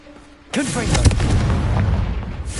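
A Confringo blasting spell detonates in the Hogwarts Legacy video game, a sharp loud boom after a quiet lead-in followed by rumbling, crackling debris that lingers and slowly settles.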